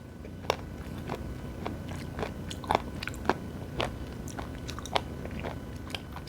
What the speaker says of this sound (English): Oh my gosh, the abalone is so sweet and so crunchy.